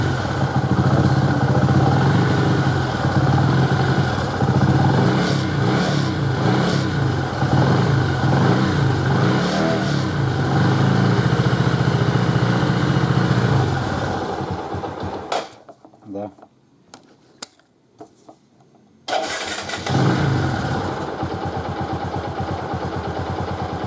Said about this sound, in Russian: Давайте еще раз заведем, посмотрим, насколько он быстро скажет